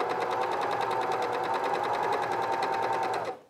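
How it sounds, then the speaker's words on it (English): A serger running a cover stitch with a binding attachment feeds fabric in one steady, fast, even whirr that holds loud and close for over three seconds before it stops abruptly. "My serger won't sew without the presser foot down"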